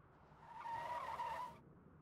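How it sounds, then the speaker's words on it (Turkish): A car skidding in the video game State of Decay 2, a single tire squeal of about a second rising and falling over a low engine hum, faint and somewhat distant. "araba sürüyoruz"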